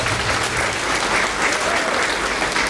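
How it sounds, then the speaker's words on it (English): Applause from guests at a debutante ball for the club president, a dense loud wash of clapping that stays even throughout the short stretch. "Give her a round of applause for that."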